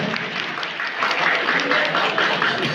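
Loud audience applause for Subhash at an honouring ceremony, a dense wash of clapping that swells slightly midway, with faint voices mixed in.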